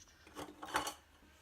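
A few short crisp snips of craft scissors cutting decorative paper for a coin envelope, close by, with light rustling between them.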